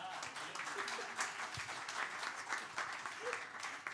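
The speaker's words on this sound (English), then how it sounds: "big round of applause for us" An audience claps for the presenters at a startup seminar in a crowded, humid room, a steady patter of many hands from nearby that rises and falls, with a voice speaking faintly underneath.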